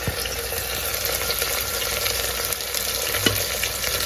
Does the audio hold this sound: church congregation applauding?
no